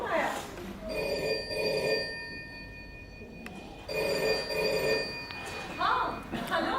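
A telephone bell rings in repeated bursts with short pauses between them, loud and clear, while a voice talks underneath.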